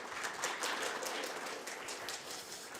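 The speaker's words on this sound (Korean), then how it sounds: "큰 박수 부탁드리겠습니다" The audience at a Bank of Korea financial policy conference on real estate credit gives sustained applause, a dense, even patter of many hands that sounds quiet and slightly distant.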